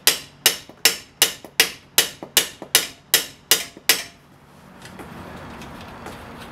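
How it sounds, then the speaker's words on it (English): About a dozen sharp metallic hammer strikes on a nut on the end of a 2000-06 Ford Taurus driver-side CV shaft ring out in a steady rhythm, close and loud, then stop, leaving faint rattling and background noise. "I'm just going to put the nut on the end and hammer up."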